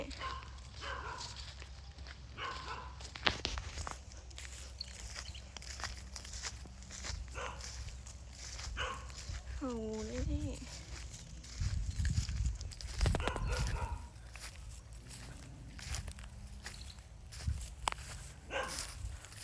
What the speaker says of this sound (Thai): จะไปเห่าเขาทำไมอ่ะ เห่างู